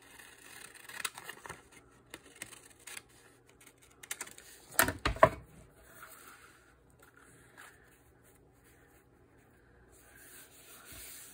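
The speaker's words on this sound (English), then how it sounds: "I'm going to trim it. And a little more trimming." Paper being trimmed for a spooky handmade journal, with faint scraping and rustling and a brief cluster of crisp cuts midway in an otherwise quiet, close setting.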